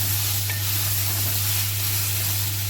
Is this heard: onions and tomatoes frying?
yes